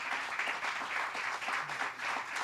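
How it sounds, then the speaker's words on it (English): Crowd applause during a governor's tour of a pharmaceutical glass packaging facility, steady clapping with a slightly pulsing rhythm. "And let's give them a round of applause for what they do."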